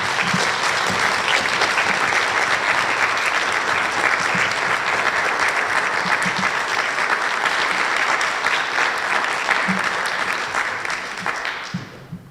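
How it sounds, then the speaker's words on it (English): An audience at a district spelling bee gives a loud, sustained round of applause for a finalist, the clapping staying full and even before tapering off at the very end. "give him a round of applause"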